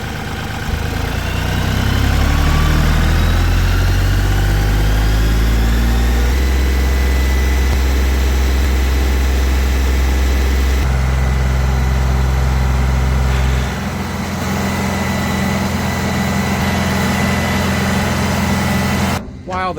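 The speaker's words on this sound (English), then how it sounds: "While the tractor is cooking away down there" A tractor engine idles steadily at a distance across a farmyard, a low continuous rumble with slight shifts in pitch, running alone without any talk.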